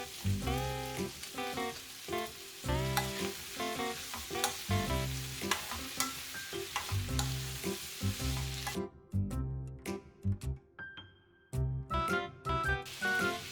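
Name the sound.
julienned potatoes and onion stir-frying in pan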